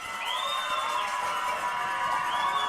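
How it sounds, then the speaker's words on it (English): Home fans on the Big Sandy side cheer at a high school football game against Union Grove, a steady crowd roar with rising shouts and whistle-like calls sweeping over it. "And the crowd on the Big Sandy side is getting loud, as you can hear."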